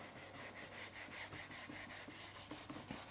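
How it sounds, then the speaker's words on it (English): Rhythmic back-and-forth scrubbing as writing is rubbed off a board during a maths lesson on averages, a steady run of about a dozen close, even strokes with no talking. "let us rub this out now"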